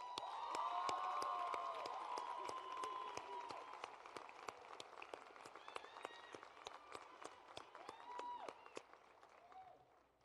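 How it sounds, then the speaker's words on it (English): Sustained applause from a large audience at a high school commencement ceremony for a girls' school, a dense steady patter of clapping that peaks early and gradually thins toward the end, with a few faint cheers mixed in. "Let's give these women a round of applause."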